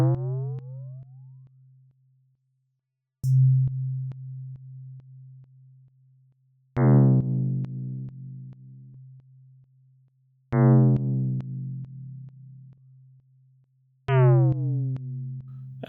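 Synthesizer tone repeating four times, each a bright chirping burst with a downward-bending harmonic warp over a steady low sine body, decaying over a few seconds, alone with no talk.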